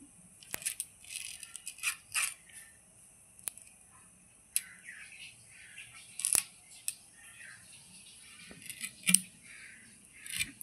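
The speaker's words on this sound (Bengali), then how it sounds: "এরকম পিস পিস করে কেটে নেব আমি লোটে শুটকিটা" Scissors cut dried Bombay duck fish into pieces, making a series of close, crisp snips and rattling clatters at an irregular pace, with quiet pauses between cuts.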